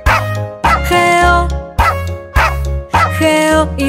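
Bright, tonal dog barks repeat in a steady rhythm against bouncy music in a Spanish-language children's song about a farmer's dog named Bingo, loud and clear throughout.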